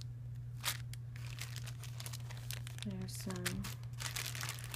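A plastic bag holding lace trim pieces and cut-up appliques is handled, giving soft crinkling and rustling throughout, with a brief voice-like tone in the middle over a steady low hum.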